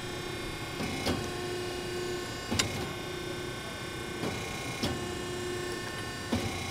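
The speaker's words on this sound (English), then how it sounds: "Come in here and we'll just make a couple clips." Piranha ironworker machine clipping steel plate in a workshop, several sharp metallic snaps spaced a second or two apart over a steady electric motor hum.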